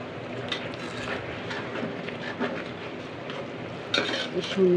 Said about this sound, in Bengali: আমার খিচুড়িটা বলক চলে আসছে